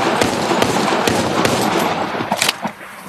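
Gunfire in the VR video game Arizona Sunshine, with a series of sharp shots spaced irregularly over a noisy background and a quick cluster near the end.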